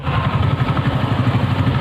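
A motorcycle engine idles close by, a steady low throbbing putter with a faint clatter and no talk over it.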